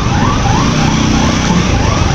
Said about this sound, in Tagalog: Ako, nag-alarm tong bangko ng RCBC.